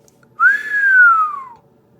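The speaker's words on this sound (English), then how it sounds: "would then whistle" A single clear whistle from a person rises quickly, holds, then glides down in pitch over about a second, loud and close, with no other sound around it.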